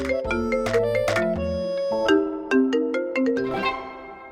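An incoming phone call rings out as a bright, melodic electronic ringtone, loud and close, with stepped chiming notes repeating over several seconds and no talk over it.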